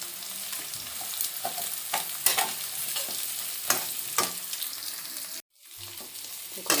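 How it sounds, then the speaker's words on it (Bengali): Washed lentils fry in a pan with onion, ginger and spices for khichuri. A steady sizzle is broken by scraping stirring strokes and sharp clicks, then drops to a brief silence before the quieter frying resumes. "ডালটাও ভাজা ভাজা হয়ে গেছে।"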